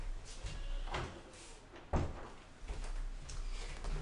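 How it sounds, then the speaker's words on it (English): An office door closes at home with a single distinct thud near the middle, followed by a quieter settling knock, against a low steady room hum. "I'm going to close my office door."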